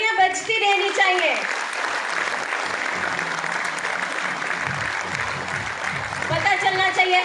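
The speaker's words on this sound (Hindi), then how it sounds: "तालियां बजती रहनी चाहिए।" A crowd claps steadily, dense applause that continues throughout with a voice briefly audible at the start.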